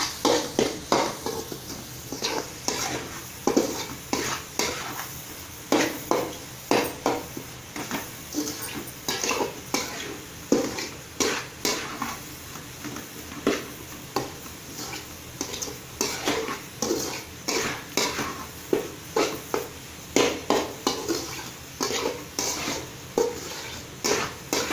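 A cauliflower chilli rice mixture is stirred and fried in a pan, with repeated metallic scrapes and clinks of a spoon against the pan over a soft sizzle, in a steady rhythm throughout.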